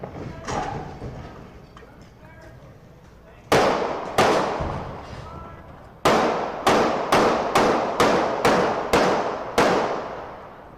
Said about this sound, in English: You hear the gunshots.